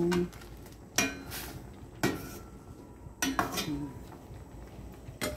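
Metal pot lid lifted and set down over a pot of cooked dinengdeng vegetables, several sharp clanks and clinks spaced about a second apart, close and moderately loud.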